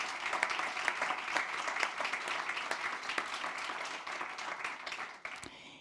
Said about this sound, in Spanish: Un aplauso también, por favor, para Brenda.